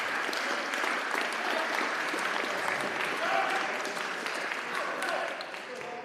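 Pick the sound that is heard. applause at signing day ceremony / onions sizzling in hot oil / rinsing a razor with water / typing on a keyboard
applause at signing day ceremony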